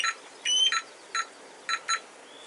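A Bosch Spexor mobile alarm in a camping-car sounds in bursts of shrill electronic beeps, several short pulses in an irregular rhythm, close and fairly loud, with no talking.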